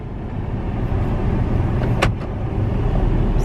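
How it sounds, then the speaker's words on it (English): A car drives past on a dark night outing, its steady broadband road and engine rumble filling the scene with a brief sharper swell near the middle, no voices heard. "There's a car coming."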